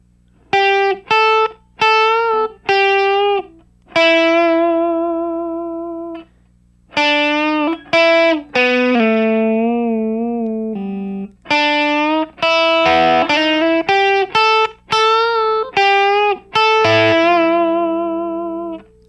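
An electric guitar with a distorted, effects-laden tone plays a blues lick, with quick picked notes, half bends and sustained bent notes in phrases separated by brief pauses, loud and close.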